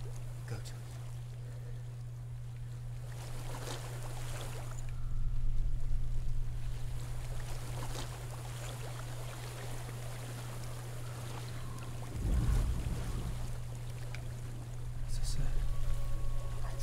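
Gentle flowing stream water in the Hellblade video game, a soft continuous wash that swells at intervals over a steady low drone, with a voice speaking over it.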